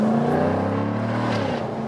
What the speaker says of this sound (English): This engine is so silent and smooth when it's kept at lower RPMs, but then really explodes.